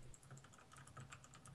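Someone typing quickly on a computer keyboard, a dense rapid run of soft key clicks, close and unbroken, with no talk.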